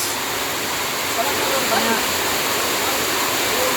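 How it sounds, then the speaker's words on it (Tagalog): Heavy rain pours down steadily at a house under construction in the afternoon, a dense continuous roar of water with a few faint voices buried beneath it. "Sobrang lakas ng ulan, bumuhos."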